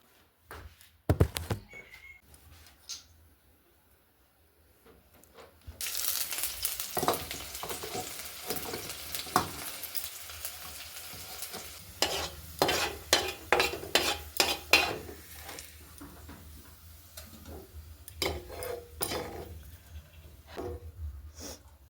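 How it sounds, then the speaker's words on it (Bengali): Cauliflower leaves frying in a wok: quiet clinks and scrapes at first, then a rising sizzle with a run of sharp utensil taps and stirring clatter, no voices. "পাতাটা ভেজে তুলে নিয়েছি এই কড়ায়"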